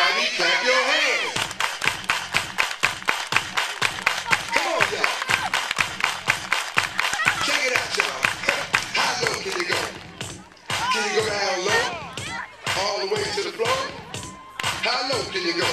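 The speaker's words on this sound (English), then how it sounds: "Everybody clap your hands." Rhythmic group hand clapping in a children's movement game, a steady run of sharp claps over music and a lively crowd, with a voice calling out along with it.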